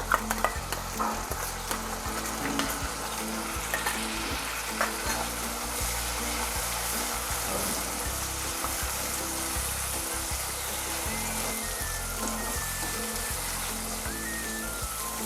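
Tomato paste frying in a pan for a soybean kheema, a steady close sizzle with occasional stirring clatter. It runs without a break for the whole stretch, and no voice is heard.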